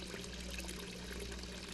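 Water pours in the Hello Neighbor video game, a brief steady running stream, fairly quiet and alone with no talk.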